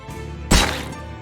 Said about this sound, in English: why don't you go knock him down a peg with that sword?